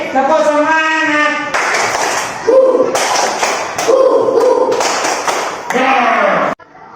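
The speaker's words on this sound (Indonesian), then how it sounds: "Tepuk semangat." Indonesian classroom group doing a rhythmic 'tepuk semangat' clapping chant during a Pancasila lesson, loud bursts of patterned claps and slaps mixed with children's chanting voices.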